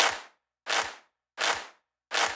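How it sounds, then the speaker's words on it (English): Four loud clap hits from a hip-hop beat, evenly spaced about 0.7 seconds apart, each a broad noisy burst with a short decaying tail, heard alone with no talking. "And the first clap sounds like this."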